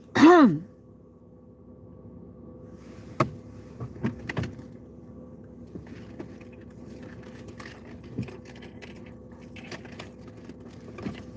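One short throat clear right at the start, then a long quiet stretch with faint scattered clicks and rustles.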